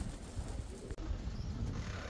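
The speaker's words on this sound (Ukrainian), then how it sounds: "А там голуби, блядь, в небі, голуби на землі, голуби кругом" Pigeons coo softly outdoors where many birds gather, faint low calls over a quiet ambient background with a brief dropout midway.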